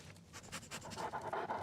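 In the game Oblivion Remastered: Shivering Isles, a dog pants close by in quick, rhythmic breaths that build louder over a brief moment.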